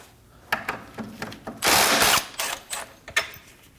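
Metal clicks and ratcheting of a 17mm socket wrench loosening a front control arm bolt on a 2011-2016 Kia Optima, with short close taps and a longer burst of turning mid-way, no talk.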